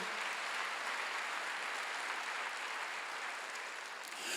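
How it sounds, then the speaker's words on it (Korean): A church congregation at a Wednesday worship service claps together, a dense, even, sustained applause heard at moderate distance with no voices over it. "박수로 하세요."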